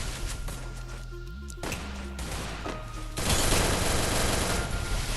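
Bursts of automatic gunfire in a first-person shooter video game, with rapid rattling volleys and some thuds that turn into a sustained loud barrage in the second half, with no talking.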